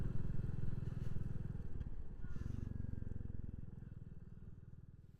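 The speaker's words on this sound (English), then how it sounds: "Just wanted to show you what I'm riding today. 2023 Royal Enfield Classic 350 in Halcyon Green." A 2023 Royal Enfield Classic 350 motorcycle being ridden, its engine giving a close, steady, rumbling drone with some wind and road noise that eases off slightly toward the end.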